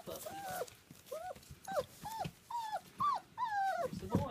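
A puppy whimpers and yips in a series of short, high, whiny cries close to the listener, interspersed with soft licking and breathy sounds, growing slightly more insistent toward the end.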